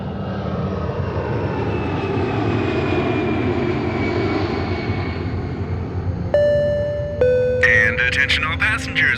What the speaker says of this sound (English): Attention all passengers, please prepare for takeoff.